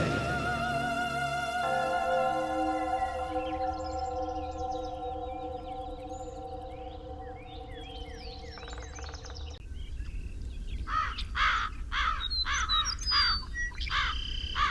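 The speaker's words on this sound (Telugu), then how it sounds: "ఏమైందో తెలియలా ఉదయం నుంచి కాకులు అరుస్తున్నాయి." Crows caw repeatedly in a series of harsh calls mixed with other bird chirps, loud and close at first, then sharper bursts of cawing later, with a long tonal drone underneath and no talking.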